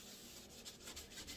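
A scrubby cloth with cleaning paste rubs over a stove top caked with cooked-on egg, making faint, close scratchy strokes that repeat in a quick, uneven rhythm.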